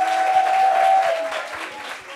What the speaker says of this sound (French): qu'on peut applaudir les protagonistes, s'il vous plaît?